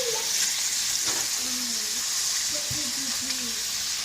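Pork chops sizzle in a pan of reducing sauce, a steady loud frying hiss with a few scrapes of stirring and faint background voice.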